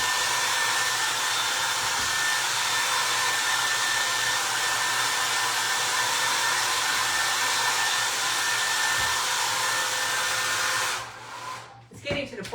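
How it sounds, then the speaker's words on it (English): A hair dryer runs with a steady, loud whooshing roar for about eleven seconds, then cuts off abruptly, leaving a few faint rustles and handling noises. "my hair dryer does not want to"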